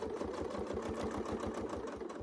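A sewing machine stitches a quilt with a steady, fast mechanical chatter of evenly spaced needle strokes, close and continuous, with no voices.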